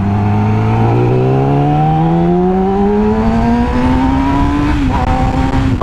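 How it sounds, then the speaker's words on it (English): A sport motorcycle's engine revs and climbs steadily through the gears while being ridden, with its tone rising smoothly before a brief dip and another pull. The sound is loud and close throughout. "I've never owned a bike that sounds so great before."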